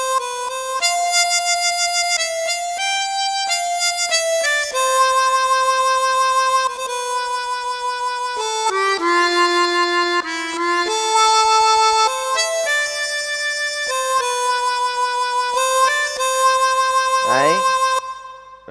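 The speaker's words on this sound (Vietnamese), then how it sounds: "Đây là tiếng harmonica nè." A reedy synthesized harmonica voice on an SX600 electronic organ plays a steady melody of held and stepping notes, ending with a quick upward bend, loud and alone.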